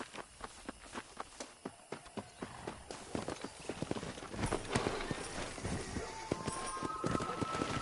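Horse hooves in Red Dead Redemption clatter in a steady rhythmic clip-clop that speeds up into a fast ride, close and clear over faint outdoor ambience.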